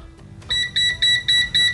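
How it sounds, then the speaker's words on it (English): A shrill electronic alarm from an INFURIDER YF-90K multimeter, its high-current warning at the 10 amp threshold, beeps five times in a quick, even rhythm, each pulse short and loud, close to the listener. "we have that high current alarm"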